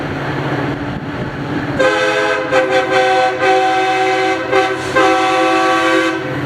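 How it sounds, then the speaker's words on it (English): A commuter train horn blares in long, loud blasts with brief breaks as the train departs, close by over rumbling engine noise, no voices, in Farmington, Utah. "he gave a massive horn show while departing"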